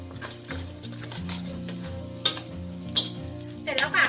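Pork leg sizzles and fries steadily in a pan over gentle heat, with a few louder crackles and stirring clatters near the end, the sizzle sitting under a low background hum.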